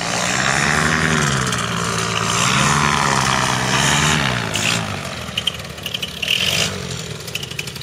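A small aircraft engine drones loudly during a tandem experience flight near Furano, its pitch rising and falling in slow waves before easing off into softer, uneven rumbling.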